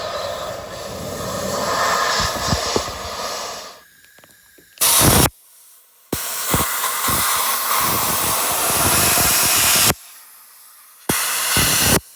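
Loud hissing bursts of soapy water spray and compressed air on a bus's rooftop air conditioner start and stop abruptly, broken by short quiet gaps, close to the listener.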